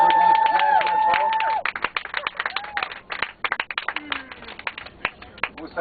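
Audience applause after a speaker's thanks, with scattered claps breaking out over voices and background chatter, sparse and uneven rather than a full ovation, mixed with crowd noise.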